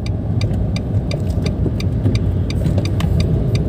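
A 2014 Nissan March 1.2 L manual hatchback engine pulling on an out-of-town road, a steady loud mid-pitched drone with faint ticking on top and no voices.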